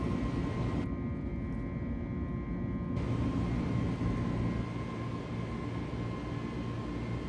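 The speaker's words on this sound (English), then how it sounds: "you can hear more of the wind and stuff in there" Wind rushing past the cockpit of a simulated airplane departing Innsbruck in a flight simulator game, a steady, dense roar that holds even and unbroken throughout with no voices.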